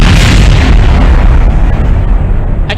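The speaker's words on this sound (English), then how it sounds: "I told you the explosion was pretty" A loud rocket explosion from a Kerbal Space Program audio drama, a dense booming blast that fills the whole clip and rumbles on without a break, fading slightly toward the end.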